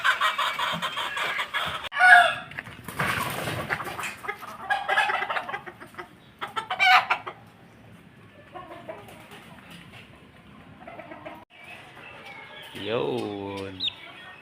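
Pumpkin Hatch gamefowl chickens cluck and a rooster crows loudly near the end, mixed with nearby speech and farmyard bird calls.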